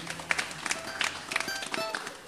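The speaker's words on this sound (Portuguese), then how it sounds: "Vamos bater palmas aqui." An audience claps along in a small bar during live music, with sharp, uneven hand claps over the band.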